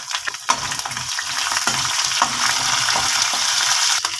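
Ginger and green chillies sizzle steadily in a hot pan, with occasional stirring scrapes and pops rising over a continuous loud frying hiss.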